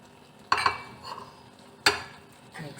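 A spoon stirs and mixes sweet zarda rice with almonds, coconut and raisins in a pot, giving two sharp scraping clinks close together, a softer scrape, then another clear clink and a faint rustle, with no talking.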